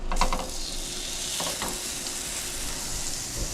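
Chicken cutlets dropped into melted butter in a pan give a loud close sizzle, with a sharp burst at the start and a few clinks before a steady frying hiss settles in.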